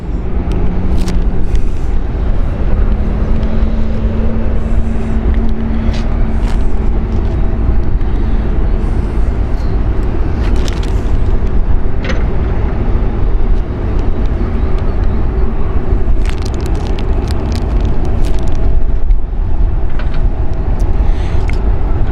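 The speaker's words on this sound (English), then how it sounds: "we can see the A380 of Emirates just taxiing past us" An Emirates Airbus A380 taxis past at Zurich airport, its engines a loud, steady low roar and rumble that fills the whole stretch, close by and unbroken, with brief higher hisses drifting over it.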